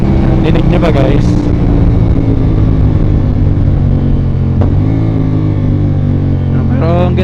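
Deep, bassy exhaust of a CF Moto 450 SR-S motorcycle with a new aftermarket pipe, heard up close as it downshifts, the engine note dropping and surging again several times in a continuous rumble.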